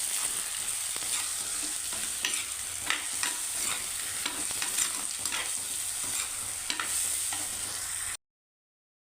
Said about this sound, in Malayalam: അപ്പോൾ അതൊക്കെ വീണ്ടും നമ്മളൊന്ന് ഇളക്കി കൊടുക്കുന്നു